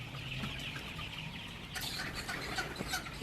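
Colored broiler chickens in a poultry shed, forty days old, clucking softly as a flock in steady low background chatter with a brief louder flurry.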